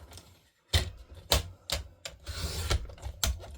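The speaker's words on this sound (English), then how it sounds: "what you want to do is take and cut off 1/2 inch from the bottom" Card stock is cut for a handmade card in several sharp, close rasping strokes, irregular bursts with short gaps between them.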